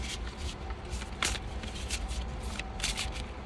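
Tarot cards shuffled by hand in a series of quick riffling bursts over a steady low hum, close and fairly quiet, with no one talking.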